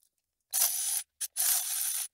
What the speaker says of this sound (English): I'm going to torque all the bolts to 10 Newton meters